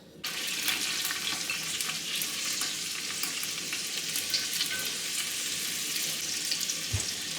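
About three tablespoons of lard sizzle in a pan for Hungarian lecso, a continuous bright, hissing fry that starts abruptly and holds steady, with a faint knock near the end.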